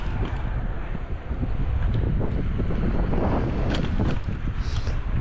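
Strong outdoor wind buffeting the microphone in a residential area of Pankow, Berlin, a steady loud roaring rumble that fills the whole stretch without a break.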